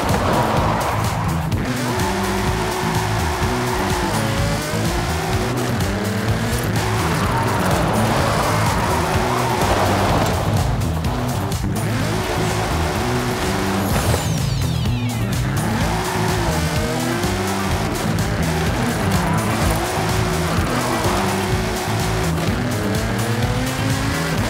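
A rear-wheel-drive car in Forza Horizon 5 screams through tight reservoir corners, its engine revving up and down continuously while the tires squeal and skid through the turns, loud and unbroken.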